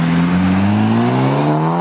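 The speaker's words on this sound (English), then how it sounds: "That's a turbo for a Del Sol." Turbocharged Honda Del Sol at an Arizona car show, engine revving up loud and close, pitch climbing steadily over a couple of seconds.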